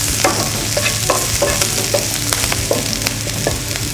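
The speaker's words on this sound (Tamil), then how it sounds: "இந்த பொரியலுக்கு தேவையான வெங்காயத்தை போட்டுக்கோங்க. வாசனைக்காக கருவேப்பிலை ரெண்டு ஓரளவு வதக்கிட்டு" Onions and curry leaves sauté in a pan for a vegetable poriyal, a loud close sizzle punctuated by rhythmic spatula scrapes and stirring knocks roughly every half second, with no talk.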